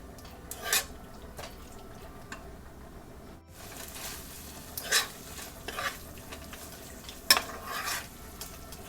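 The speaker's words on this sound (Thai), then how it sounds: "ผัด เนื้อกับ พริกแกงของเรา" Beef with curry paste sizzles quietly in a pan while a utensil stirs and scrapes in short bursts, with no talking.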